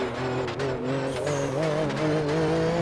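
A race car in the RaceRoom racing game loses its rear end, engine droning steadily with rising and falling pitch and a faint tyre scrub beneath.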